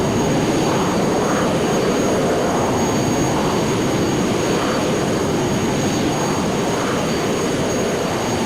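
Airliner jet engines on a full-power takeoff roll, a loud, steady roar with a whistling high tone that holds without a break, no voices.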